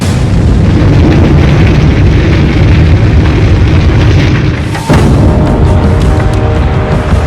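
Nuclear bombs hitting Washington in a surface contact blast, heard as a dense, loud, continuous roar with a sudden renewed impact near the end followed by sustained rumbling.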